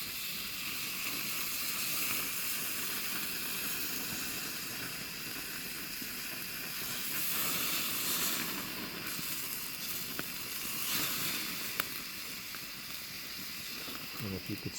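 A thick 3.5-inch tomahawk cowboy ribeye steak sears on a hot grill outdoors at an RV, giving off a steady broad sizzling hiss that runs throughout with a few faint clicks and low background rumble.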